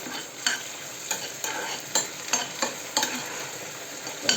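Strained mushrooms frying with onion in a pan, a continuous sizzle broken by repeated scraping stirs at an irregular pace, close and fairly loud, with no talking.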